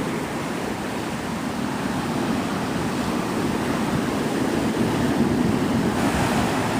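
Ocean waves wash onto a beach in a continuous broadband roar with gentle swells, steady and fairly loud with wind noise on the microphone and no talking.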